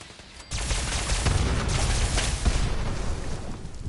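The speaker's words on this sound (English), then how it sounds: "Dang, that explosion took me out." A video game explosion bursts in after a brief quiet lead-in, then a loud, dense roar of blasts and crackling debris that rumbles on continuously to the end.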